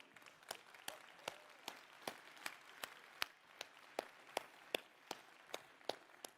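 Sparse, rhythmic clapping at the Xiaomi 13 global India launch event, quiet and fairly distant, with individual claps spaced evenly rather than a full ovation.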